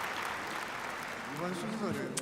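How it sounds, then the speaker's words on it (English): Sustained audience applause at an anniversary celebration, a steady wash of many hands clapping with a voice speaking over it near the end. "let us give a round of applause for Mother to stay healthy for the next 33 years"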